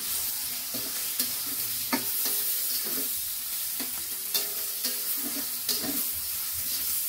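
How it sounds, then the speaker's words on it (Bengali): Shrimp fry with onions and turmeric in a pan, a steady sizzle broken by repeated scraping clinks of a spatula stirring, close and clear with no talking. "চিংড়ি মাছটা দিয়ে আবারও পেঁয়াজের সঙ্গে ভেজে নিব"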